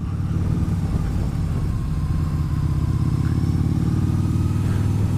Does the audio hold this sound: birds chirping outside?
no